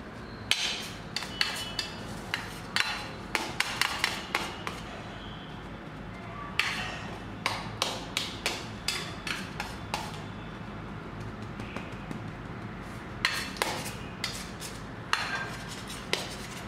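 Warm coconut burfi mixture is patted firmly into a tray, giving sharp, close tapping knocks in quick clusters with short pauses between, repeated steadily throughout.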